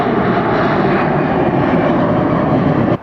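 A Boeing 767 jet departs Atlanta Hartsfield-Jackson airport, its engines a loud, sustained roar close by that holds steady for the whole stretch before cutting off abruptly at the very end.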